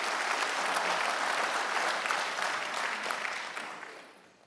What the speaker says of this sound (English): Let's give those three a round of applause